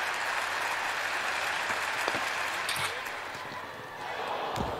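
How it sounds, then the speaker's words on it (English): Indoor athletics crowd at a European indoor championship watching a Swedish pole vaulter's third attempt, a sustained murmur and clapping that swells, then dips near the end as the bar falls, with scattered claps and thuds around the arena. "there's an oh from the crowd"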